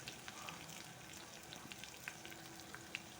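Curry leaves sizzle and crackle in hot oil for a dal tadka, a steady close hiss dotted with small pops and spits, with no voices over it.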